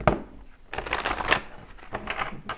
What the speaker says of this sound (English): I know there's a lot of shuffling